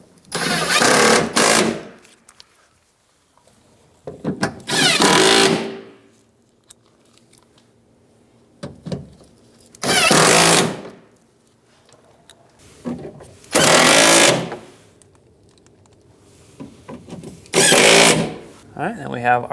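A power driver runs bolts into the door panel of a 2007-2015 Mazda CX-9, loud close whirring bursts of a second or two, about five times, separated by quiet gaps.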